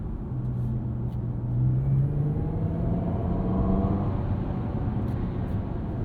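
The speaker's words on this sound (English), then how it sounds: "It just sounds like a car with a CVT that's like whirring up." Synthetic boost-mode engine sound from a 2023 Genesis GV60 electric SUV as it accelerates from inside the cabin, a low droning whir that rises steadily in pitch like a CVT winding up, with a faint rumble and no talk.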